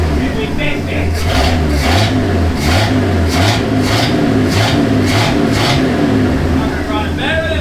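A classic Ford truck engine, just back running after a throttle cable repair, revs loudly and close in a series of repeated throttle blips over a rumbling idle, with voices talking over it.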